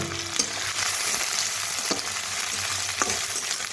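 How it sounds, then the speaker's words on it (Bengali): Onions fry in a pan with a continuous bright sizzle, punctuated by a few scraping stirs, close and fairly loud with no voices. "পেঁয়াজগুলো লাল লাল হয়ে ভাজা হবে"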